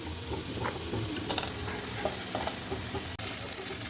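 Potatoes tossed into lentils frying in hot oil, a steady close sizzle with stirring scrapes throughout and a brief cut near the end, no voices.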